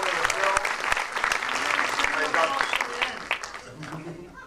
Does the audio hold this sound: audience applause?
yes